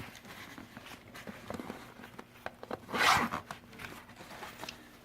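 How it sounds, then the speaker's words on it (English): A zipper on the Segway miniPLUS carry-basket bag is pulled open with one quick, close rasping burst, preceded by soft handling rustles and light taps, with no talking. "just unzip either side"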